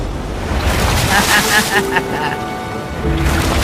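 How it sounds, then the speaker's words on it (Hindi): A big ocean wave crashes toward an island shore in loud, continuous surf and rushing water, with wind buffeting the microphone and people talking over it. "ओके, ये आई बड़ी लहर।"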